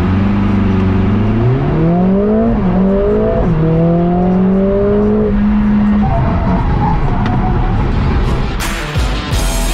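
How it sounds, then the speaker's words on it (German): A race car accelerates hard on a racetrack, its loud engine climbing through several gear changes in rising sweeps, then settling to a steadier drone before fading into broad road noise. "aber ich will jetzt auch Gas geben."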